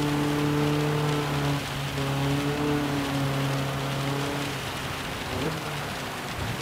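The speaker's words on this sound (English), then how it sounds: "because the rain's that heavy" Steady heavy rain hisses across the whole stretch in the racing game Gran Turismo 7 at the Nürburgring, with a sustained tonal hum underneath that fades partway through.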